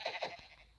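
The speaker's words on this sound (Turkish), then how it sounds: "Aha, koyun." A Minecraft sheep gives two quick, faint bleats in succession, followed by a softer trailing sound.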